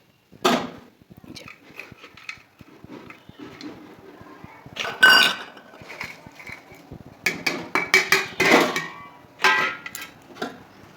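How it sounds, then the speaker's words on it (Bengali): Tangra fish dropped into a pot of thin curry with potato and eggplant, giving a few scattered clanks and splashes with pauses between, fairly close. "এবারে আমি মাছগুলো ছেড়ে দেবো"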